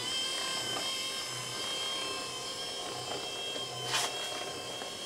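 A metal lathe fitted with a converted DC motor power feed runs forward at high speed, giving a steady whine with layered tones, plus a brief sharper noise near the end.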